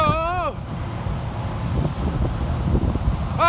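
A big gust of jet blowback roars across the microphone as a close, heavy rush of wind buffeting, rising and falling with ragged bursts, after a voice briefly at the start.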